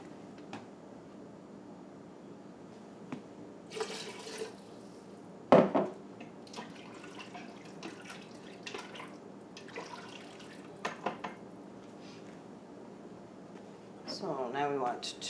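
A cup of water poured into an Instant Pot in a home kitchen, with soft trickling and dripping, one sharp clink of a cup or utensil against the pot, and a voice talking intermittently throughout.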